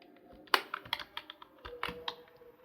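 Quick bursts of typing on a computer keyboard while coding a Python program, irregular clicky keystrokes close and fairly quiet, with a few louder key hits.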